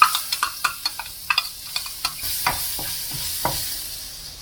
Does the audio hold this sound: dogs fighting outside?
no